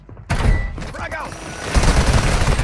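Frag grenade detonating during a Warzone match on Rebirth Island, a loud broadband blast rising sharply after a brief quiet start and rumbling on with a second heavy surge, while squad voices talk over the din.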